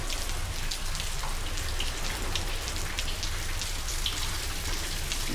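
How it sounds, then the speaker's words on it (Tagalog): Heavy rain pours steadily onto surfaces nearby, a dense, continuous hiss with scattered drop patter that never lets up, and no voices. "ang lakas ng ulan na"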